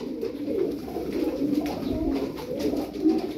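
Turkish flying pigeons cooing close by, repeated soft throaty coos overlapping in a low rolling rhythm, with no voices.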